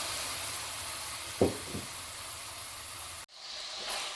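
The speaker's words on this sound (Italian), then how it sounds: "E adesso un bel goccio di verdicchio e facciamo sfumare per bene." Verdicchio wine hitting a hot pan of browned lamb, giving a steady close hiss of evaporating liquid with a couple of brief bursts, then cutting off abruptly.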